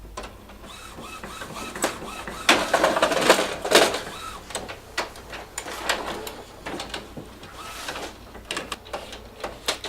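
Paper trays sliding and clicking on an Epson WorkForce Pro WF-4730 printer, a series of close plastic knocks, slides and rattles with a busier burst in the middle, no talking.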